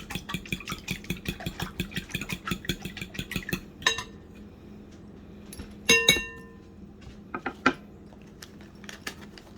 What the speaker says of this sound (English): I'm going to mix this up a little bit before I put the cornbread batter in